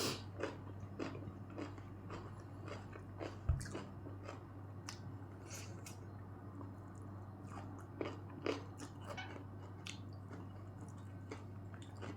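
Wet squishy chewing and sucking on chicken feet in a spicy Thai glass-noodle salad, with soft smacking bites repeating steadily and close up, plus a sharper crunch partway through; no talking.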